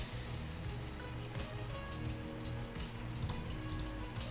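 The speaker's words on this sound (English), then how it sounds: "Rain." A rain weather preset in an Unreal Engine 5 sci-fi swamp scene plays a steady, soft hiss of rainfall with scattered faint patters of drops, even and continuous, at low volume, with no voices.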